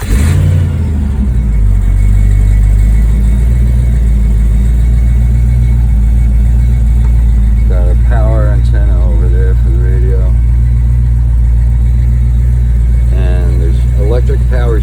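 A modified 1952 Chevy 3100 truck engine runs with a steady, deep, loud idle and light revving throughout, while someone talks briefly over it.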